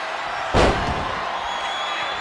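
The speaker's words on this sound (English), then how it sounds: "Opponent slammed down." A wrestler is slammed to the mat in the wrestling video game WWE 2K23, a single heavy thud with a crowd roar steady underneath.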